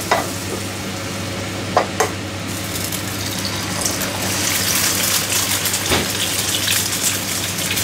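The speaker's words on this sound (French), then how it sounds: "Voilà, pour la cuisson de l'œuf." An egg frying gently in a pan gives a dense, steady sizzle up close, with a few clicks from the pan or utensil, and no one speaking.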